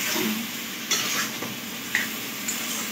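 Vegetables with spices frying in a pan, a steady close sizzle broken by a few sharp clinks as a utensil stirs against the metal, with no one talking.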